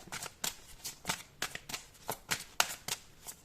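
Tarot cards being shuffled and drawn by hand, soft crisp riffles and slaps in an irregular flurry close to the listener, with no talking.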